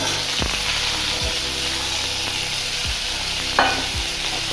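Mango pieces fry in hot oil in a kadai, giving a loud, steady sizzle with repeated scraping strokes of a stirring spoon and one brief clatter near the end; no voices.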